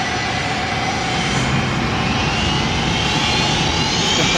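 An airplane engine in a 1973 action film scene gives off a steady, droning roar that stays loud and even throughout, with no voices over it.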